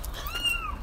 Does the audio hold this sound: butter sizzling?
no